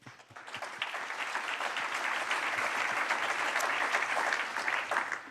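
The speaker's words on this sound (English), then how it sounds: "please join me, first of all, in giving them all a big round of applause" A large audience applauds a panel of representatives from leading global companies at a hydrogen ministerial meeting, steady dense clapping that swells quickly and holds for about five seconds.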